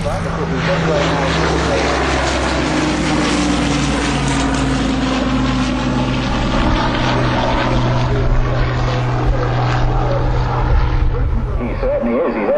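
A Hawker Hurricane at an air display at Dunsfold roars overhead at full throttle, its propeller engine a loud, continuous drone with shifting tone as it passes, while commentary talk runs beneath.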